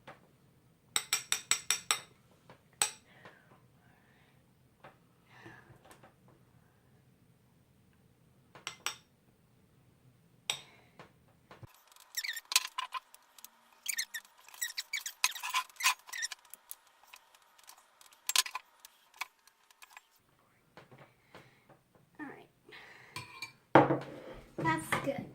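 Puff paint mixture is scooped into a bowl, making sparse, light clinks and taps of a utensil against the dish with quiet pauses between. A faint hum runs under the first half.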